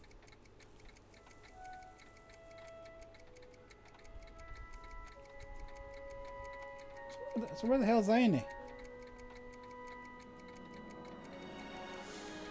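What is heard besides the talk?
clock tower ticking in Back to the Future video game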